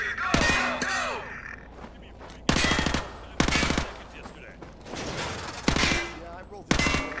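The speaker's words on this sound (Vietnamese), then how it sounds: "Khẩu này mấy khẩu SMG này bắn nhanh." SMG gunfire in the video game Call of Duty: Modern Warfare 2 Remastered: loud, rapid bursts of automatic fire repeat about six times, with game noise and voices in the gaps.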